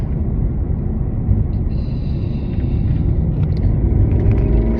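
Car accelerating onto an interstate in the early morning, a steady heavy low engine and road rumble that swells slightly toward the end, with no voices.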